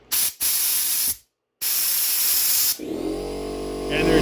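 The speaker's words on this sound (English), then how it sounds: "So now I can basically keep blowing out all the holes." Compressed air blasts through the holes of a snowblower carburetor in several loud, close bursts with brief gaps, then eases into a softer hiss carrying a steady tonal whine.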